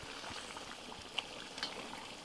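Pilaf stewing in a pot over an open fire, a faint steady bubbling and simmering hiss with a couple of tiny pops.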